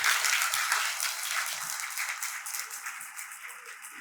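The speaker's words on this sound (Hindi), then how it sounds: "उत्साह थोड़ा कम है, और जोर से तालियां बजाते हैं।" A room full of people at a company Diwali celebration claps in a sustained burst of applause, loud at first and gradually tapering off.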